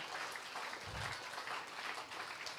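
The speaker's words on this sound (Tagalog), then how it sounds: "ibigay mo yung the best mong palakpak kay Lord" A church congregation applauds together, a dense, steady wash of clapping that holds for the whole stretch without any voices standing out.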